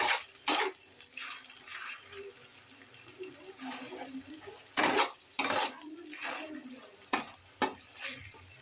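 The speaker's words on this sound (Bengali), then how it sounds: "আমি আদা রসুন বাটাটা আর পেঁয়াজটা ভেজে ভেজে নিচ্ছি।" Ginger garlic paste and onion fry in a pan over low flame, a soft sizzle broken by several louder bursts of stirring and scraping, close and quiet.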